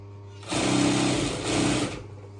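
A sewing machine set to its widest stitch runs over crochet thread in two close, steady bursts with a brief slowdown between, with no talking.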